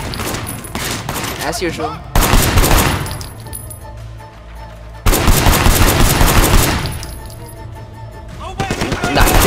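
Shotgun blasts from the video game Sleeping Dogs hit in heavy bursts, two big booming volleys several seconds apart with a tail of repeated shots, mixed with game noise and a brief spoken remark.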